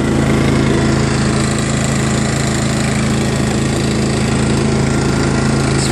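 Engine of a John Deere LA105 lawn tractor running steadily in 5th gear, a loud, constant close-up drone with a rough mechanical rattle and no speech.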